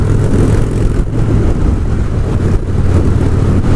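A Harley-Davidson motorcycle engine runs with a loud, steady low rumble, heavily buffeted by wind noise throughout, with no voices.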